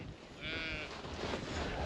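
A sheep on a farm gives one clear, wavering bleat, moderately close, over breezy outdoor background noise and faint rustling.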